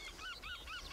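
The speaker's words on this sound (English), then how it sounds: "They think they know everything, these seagulls." Seagulls give three faint, nasal calls in a quick, even rhythm, heard from a distance over steady background noise.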